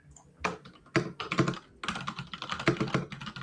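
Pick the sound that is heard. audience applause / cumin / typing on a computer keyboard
typing on a computer keyboard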